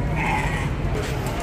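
Sheep or goat bleats sound among livestock at night, the animals bound for Lahore, one a pregnant goat; short, fairly close calls over a steady noisy background with some voices.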